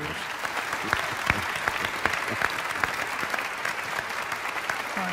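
A studio audience claps steadily through a Persian television talk show, a dense, even wash of applause with sharp individual claps standing out, loud and close, with no talk over it.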